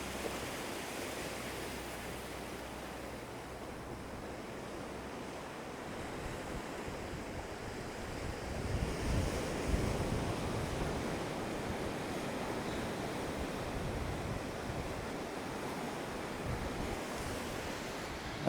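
Waves break and wash at Meadfoot Beach in Torquay, a steady broad roar of surf mixed with wind buffeting the microphone, swelling louder midway through and continuing without any voices.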